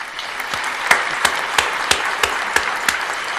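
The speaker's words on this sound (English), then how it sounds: "we're gonna give you a round of applause" Applause for quarterback Sam Darnold on a sports talk podcast, a run of sharp, evenly spaced claps, about eight in a steady rhythm, close and fairly loud.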